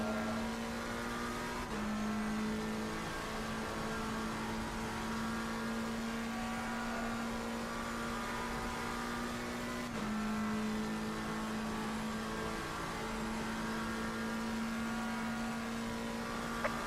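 A race car in a racing simulator at Watkins Glen or Kyalami holds a steady high-pitched engine drone, with two brief dips as it shifts gears, loud and continuous, with no talk over it.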